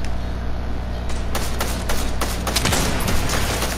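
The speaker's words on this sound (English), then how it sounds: "I'm getting shot from somewhere." Rapid bursts of gunfire in an online shooter video game, loud and close, with overlapping shots and several sharp cracks in quick succession over a constant background hum.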